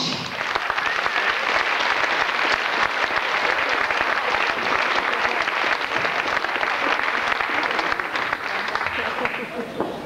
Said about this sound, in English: give a nice thunderous round of applause to our first act this evening